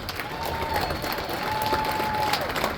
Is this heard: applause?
yes